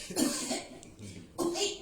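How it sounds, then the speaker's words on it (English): Two harsh, close coughs, one near the start and another a little over a second later, with a short gap between them. "Start coughing"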